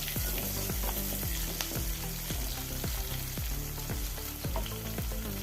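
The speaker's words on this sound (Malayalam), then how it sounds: "ഒരു പൊടി കരിയേപ്പില അത് ഇട്ട് കൊടുക്കുക അതുപോലെ ഒന്ന് വാട്ടിയെടുക്കാം" Curry leaves sauté in a hot pan for mango ginger pickle, giving a continuous sizzle broken by regular scraping stirs of the spoon, close and clear with no talking.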